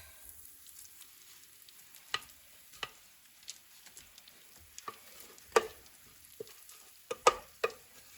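Holiday candy mixture is stirred and scraped in a pan, with sticky scrapes and soft clicks coming in irregular bursts over a quiet background, some strokes louder and sharper near the end.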